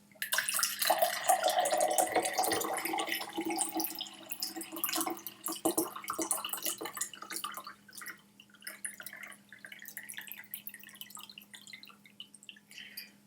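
Water is poured from a glass bottle that once held Glen Grant Major's Reserve whisky, a close trickling, dripping stream that starts strong and then breaks into irregular splashes and drips, with no talking.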